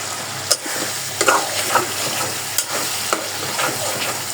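Dried fish (shutki) with jackfruit seeds frying in oil while being stirred, a continuous close sizzle broken by sharp utensil scrapes and clacks at irregular intervals, no voices.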